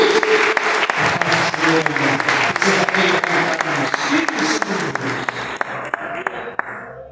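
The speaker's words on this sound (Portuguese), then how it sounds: "Vamos receber o servo de Deus com palmas para o nosso Senhor Jesus" Loud, steady applause from a congregation welcoming a preacher at a Friday night church service, with dense clapping sustained for several seconds before thinning out and fading near the end.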